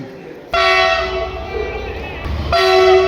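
A WDG4G diesel locomotive sounds two loud, sustained horn blasts over the deep rumble of its engine, the second blast cutting in after a short break.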